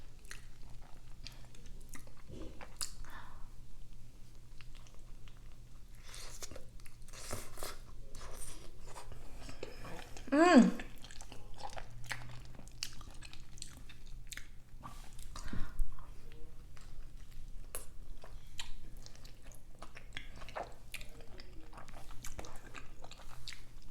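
Chewing and biting into El Pollo Loco chicken at a mukbang, with soft, close, wet chewing throughout and a louder crunchy bite near the middle and another later, faint murmurs in places.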